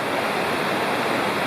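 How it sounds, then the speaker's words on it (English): Bald River Gorge roars below as a steady, dense rush of whitewater, a broad unbroken wash of noise with no voices. "And the roaring big Ball River Gorge down there"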